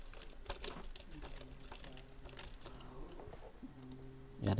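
Quiet, uneven clicking of keys on a computer keyboard while someone fills in an online voter ID card application, with soft taps in irregular bursts.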